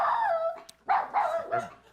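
A dog barks in a short, close sound effect, first a whiny drawn-out yelp, then three quick, loud barks in a row, with no talk over it.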